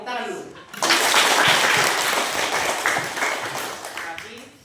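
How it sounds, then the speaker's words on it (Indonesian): A classroom of students claps together in a sustained burst of applause that starts abruptly after a brief pause and gradually tapers off, with some voices mixed in. "Oke, tepuk tangan dulu."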